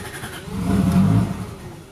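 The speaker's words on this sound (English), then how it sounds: "my car starts for the first time on its own" A car engine with a 2JZ swap cranks and catches, swelling into a loud, rough idle before easing off, close by with no talking.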